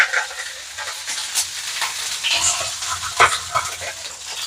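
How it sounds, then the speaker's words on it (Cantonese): Duck pan-frying skin side down, a close crackling sizzle with irregular spitting pops and bursts, no speech. "我哋煎個皮嗰邊就盡量煎香佢"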